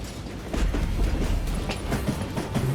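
A train rolls along rails in the Western shooter game Call of Juarez: Gunslinger, a loud rumbling clatter with rhythmic wheel clicks, steady and close throughout.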